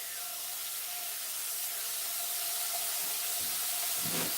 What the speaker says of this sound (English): So there's that sizzle.